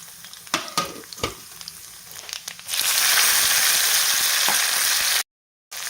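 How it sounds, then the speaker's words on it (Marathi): Mustard seeds crackle and pop in hot tempering oil for a stuffed eggplant curry, with scattered sharp snaps, then a loud, steady sizzle takes over before cutting out briefly. "आणि तेल गरम झालं की आपण फोडणीला घालूया थोडीशी मोहरी"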